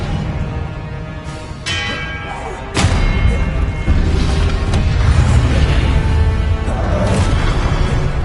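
The Expelliarmus spell cast in the video game Hogwarts Legacy, a sudden booming thud with a whooshing burst that leaves a loud rumbling layer, followed by further impacts, with a voice speaking over the effects.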